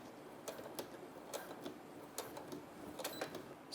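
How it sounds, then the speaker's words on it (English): A sewing machine stitches a vertical side seam of a satin-lined bonnet in short, faint bursts of rapid ticking, starting and stopping several times against a quiet room. "I'm going to sew up another one of our vertical sides."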